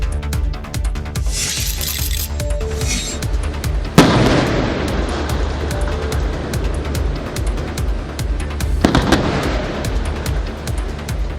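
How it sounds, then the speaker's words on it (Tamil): Explosive charges blast apart giant boulders that a landslide rolled onto a road in Udhampur, Jammu and Kashmir, with a sharp heavy boom near the middle and another a few seconds later over continuous rumbling noise. "நிலச்சரிவால் சாலையில் உருண்டு விழுந்த ராட்சத பாறைகளை வெடிவைத்து உடைக்கும் காட்சிகள் தான் இவை."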